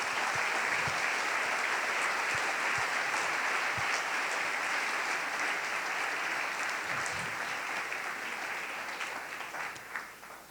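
A church congregation at a Sunday service applauds with steady, dense clapping for about ten seconds before it thins out slightly toward the end. The sound fills a large room at moderate loudness.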